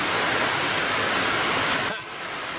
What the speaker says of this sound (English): The sun is out, it's pouring rain.